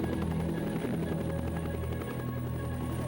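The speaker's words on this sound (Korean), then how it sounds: "그래서 탐험가 장피엘 씨 헬기를 타고 뉴기니 마을에 도착했습니다." A helicopter arriving at a jungle village in New Guinea, its rotor and engine a steady, loud, continuous drone with a throbbing low end that holds throughout, alone and with no voices.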